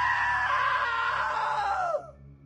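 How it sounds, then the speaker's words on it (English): A single long, loud scream holds a strained, wavering pitch for about two seconds, then drops sharply and cuts off. "Now that was a great scream."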